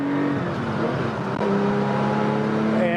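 A 1979 Porsche 911 SC runs hard at full throttle with a loud, steady engine roar and a tone that rises and then climbs again after a brief shift, close and continuous with no talk.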